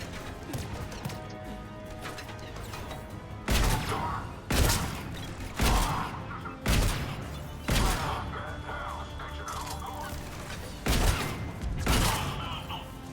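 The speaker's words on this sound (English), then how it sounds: "We got the shotgun now." Shotgun blasts in the sci-fi shooter Mass Effect Legendary Edition, about eight loud separate cracks spaced a second or so apart over a low background of combat ambience and mechanical noise.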